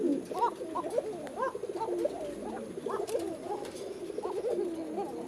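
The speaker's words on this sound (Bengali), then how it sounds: "এটা হচ্ছে একজোড়া কোকা কবুতর।" A pair of Koka pigeons coos in repeated soft, throaty phrases, close by and steady, with no voices over them.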